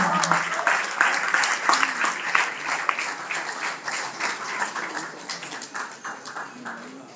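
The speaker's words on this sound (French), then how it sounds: "Applaudissements très forts." A crowd at a NeoLife company rally claps strongly and continuously, the sharp, rapid hand claps slowly thinning out toward the end, with faint voices mixed in.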